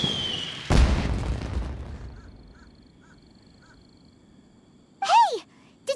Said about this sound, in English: Did you hear that explosion? Maybe it was fireworks.